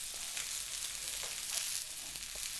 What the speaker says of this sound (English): However, here is cooking on the stove.